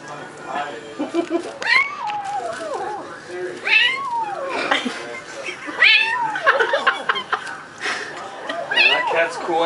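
A kitten makes odd, growly meowing noises while eating: a run of close, loud, rising and falling cries with short gaps between them.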